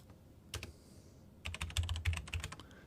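Password keystrokes on a computer keyboard: a single tap, then a quick run of close, fairly quiet key clicks with no talking.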